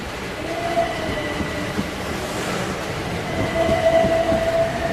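A train rolls past as an effect in a spooky Bengali ghost story set at a rural railway station, a steady loud rumble with faint rail rattle and a brief whistle-like tone, swelling slightly toward the end.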